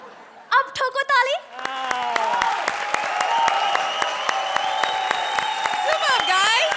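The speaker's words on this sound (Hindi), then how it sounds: "अब ठोको ताली।" A studio audience at a Hindi TV comedy show breaks into loud, sustained clapping and cheering after a brief burst of voices, with steady applause and faint vocal tones carrying on underneath.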